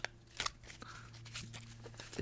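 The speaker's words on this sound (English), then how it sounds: "This is like the extent of my shuffling skills." Playing cards are shuffled by hand in a soft, close ASMR setting, making quiet riffling and crisp flicks over a low steady hum, with a few sharper snaps scattered through.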